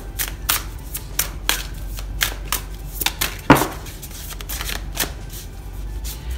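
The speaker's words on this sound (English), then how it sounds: "let's go ahead and shuffle and see what it is that you need to know" Tarot cards are shuffled by hand in a rapid string of crisp riffling bursts, close and fairly loud, with one sharper slap partway through and no talking.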